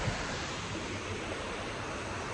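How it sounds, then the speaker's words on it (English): Steady broadband rush of river water flowing below a waterfall, a continuous, fairly close wash with no speech. "The water flowing through here."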